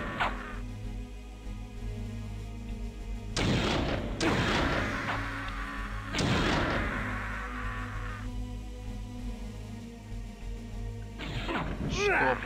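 In the video game Legacy of Kain: Blood Omen, two loud gunshot blasts with rumbling tails sound over a droning game soundtrack, someone talks in between, and a short sharp burst comes near the end.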